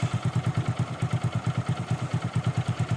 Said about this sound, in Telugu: ఒకసారి మీకు ఫైనల్గా నేను ఇంజిన్ బీటింగ్ అయితే వినిపించేస్తాను